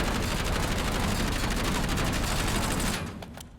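A Kilo 141 rifle fires in Warzone as a loud, rapid, continuous automatic burst that stops near the end and leaves a brief fading tail.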